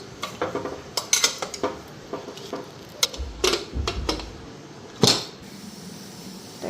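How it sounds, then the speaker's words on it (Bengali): Pressure cooker lid being fitted into place, a string of close metallic clanks, clicks and scrapes, with a heavier clunk near the end. "এখন প্রেশার কুকারে ঢাকনাটা লাগাই দেবো"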